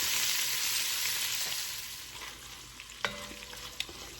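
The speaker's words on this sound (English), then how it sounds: "we're going to fry this sausage until it starts to get a little crispy around the edges" Sausage sizzling in a heavy-bottom pot for Hoppin' John, a steady close fry that eases off, then a couple of sharp stirring clacks near the end.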